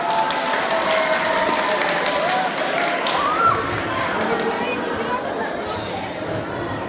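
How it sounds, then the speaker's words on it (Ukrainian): A school audience claps to welcome a guest, a former professional athlete, with a moderate, even patter of applause mixed with chatter across the room. "Привітайте його оплесками."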